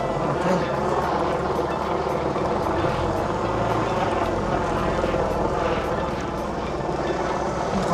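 A helicopter drones overhead on race day at the Isle of Man TT Senior motorcycle race, a loud steady roar filling the scene while voices murmur underneath.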